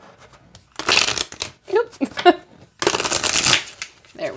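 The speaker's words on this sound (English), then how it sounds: "I believe it's the same cardstock as the other decks, but it shuffles just fine." A Meryl Tarot card deck is shuffled in two close, loud riffling bursts separated by short spoken remarks, with a few softer card flicks at the end.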